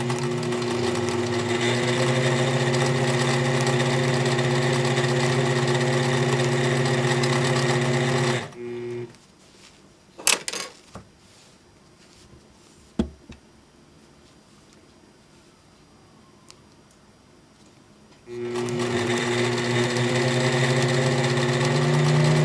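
A sit-down quilting sewing machine stitches along a ruler in a steady, loud mechanical whir, running continuously, pausing for about ten seconds with a few small knocks, then starting up again.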